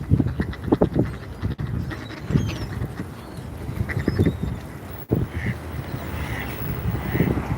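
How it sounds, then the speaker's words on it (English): Baby Canada geese and mallard ducks under a waterside bridge in Sheepshead Bay, with soft, scattered calls and quacks heard intermittently over steady wind noise and rippling water. "we actually have some baby Canadian geese that are right under me"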